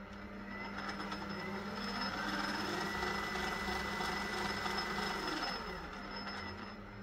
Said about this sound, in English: Then you select the direction and lathe start working.